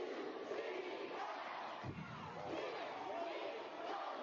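A big arena crowd at a college cheerleading national championship roars and yells along with a cheer routine, a steady dense wall of voices that stays loud throughout.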